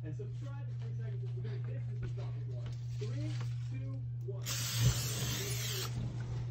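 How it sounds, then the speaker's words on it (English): Cooking spray hisses onto a pancake pan in a home kitchen, one short burst of about two seconds after people talking over a steady electrical hum. "Spray the pan."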